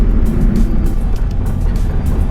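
Subaru Legacy on the road, heard from inside as a loud, steady rumble of engine and road noise with small bumps and thumps, no talking.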